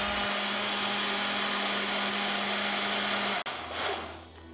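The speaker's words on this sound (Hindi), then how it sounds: "इसके साथ तमाम चीज़ें आप ब्लेंडर में डाल के ब्लेंड कर सकते हैं आराम से" A blender whirs loudly and steadily, crushing lots of ice with coconut milk for a piña colada, then cuts off abruptly near the end and the sound fades to quiet.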